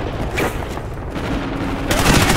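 Rapid automatic gunfire in Call of Duty Ghosts, a dense, loud crackling burst of shots that swells sharply near the end, with no talking.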